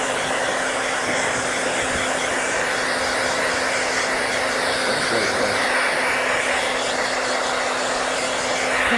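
A hair dryer blows steadily and loudly while hair is being blow-dried in a salon studio, a constant whooshing roar with a faint hum, running the whole time with no talk over it.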